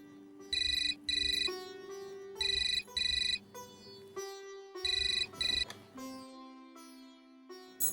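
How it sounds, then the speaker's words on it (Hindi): A telephone rings with a melodic electronic ringtone, repeated patterned bursts of tones under a soft background music bed. "शायद अर्जुन का फोन होगा।"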